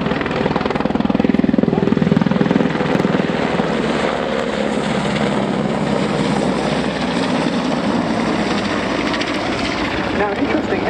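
A Royal Navy Merlin HM2 helicopter of 824 Naval Air Squadron performs a flying display at an air show, its rotor and turbine roar loud and sustained while an announcer talks over it.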